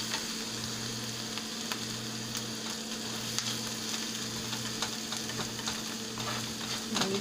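Onions fry in a pan over a little above medium heat, giving a steady, even sizzle throughout with a faint low hum underneath and no talking.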